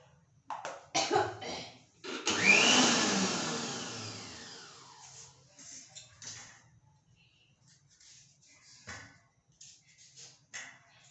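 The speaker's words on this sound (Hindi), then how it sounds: "ये मिक्सर में ऐसा पीस लेती हूँ मैं इनको।" A loud mixer grinder whirs in a sustained burst that gradually winds down, followed by quieter clatter and faint background noise.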